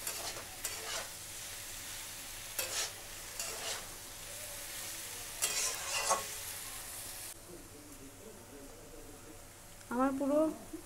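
Soybean curry being stirred and mixed in a pan, with spoon scrapes and strokes recurring over a steady sizzle and a voice talking briefly near the end.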